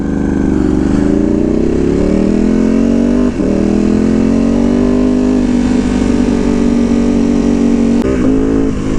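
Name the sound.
sport motorcycle engine with full exhaust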